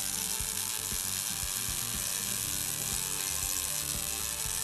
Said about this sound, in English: When the wire speed is properly positioned in the weld puddle and the travel speed is correct, the arc sounds like this.